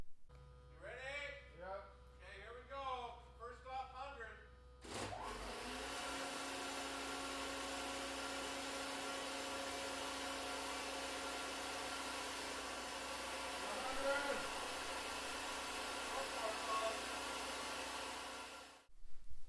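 A Fireline foam pump runs steadily at reduced volume: a continuous, loud, broadband mechanical drone with a tonal hum, starting abruptly after a few seconds of speech and holding evenly until it cuts off near the end.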